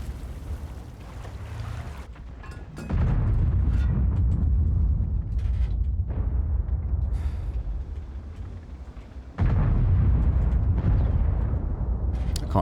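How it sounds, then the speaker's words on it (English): Low, rumbling artillery shell blasts in World of Tanks roll in as long, heavy booms. A sudden loud impact lands near the start and another about two-thirds through, each trailing into a dull roar. "Artie will now begin shooting me."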